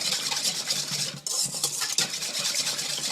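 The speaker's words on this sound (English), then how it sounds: "you're going to take your whisk and you're going to get all the little pieces that are stuck to the side of the bowl" A whisk beats egg and lemon in a bowl for a Caesar dressing, a fast continuous scraping and clattering close by with rhythmic strokes against the bowl's sides.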